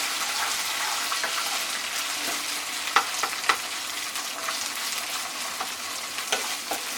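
Steady sizzling of onions frying in a pan, with occasional clicks of stirring, close and continuous.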